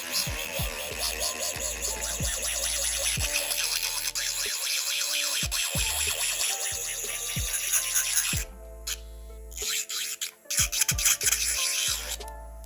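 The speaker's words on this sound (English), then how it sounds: "I'm gonna be using my nail drill and start filing that top of the fake nail" A small electric nail drill whirs and grinds against the top of an acrylic fake nail in short bursts, its pitch dipping under pressure, with brief pauses between passes.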